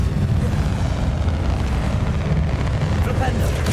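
A Bombardo blast spell in Hogwarts Legacy sets off a loud, rumbling explosion that roars continuously for a few seconds amid combat sounds.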